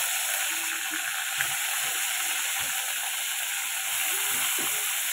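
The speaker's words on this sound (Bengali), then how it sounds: "এবার আমি তেল পটলগুলো সব ভেজে নেবো লাল লাল করে।" Pointed gourd (potol) frying in oil, a steady close sizzle with faint clinks and scrapes running throughout and no talking.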